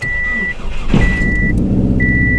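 A turbo-swapped Subaru Impreza engine, fitted with bigger injectors, cranks and catches, then settles into a steady rumbling idle while a high electronic beep chimes on and off.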